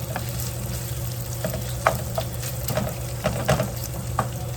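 Butter melting and sizzling in a frying pan with sausage, a steady close frying hiss with small pops and crackles scattered throughout, no talking.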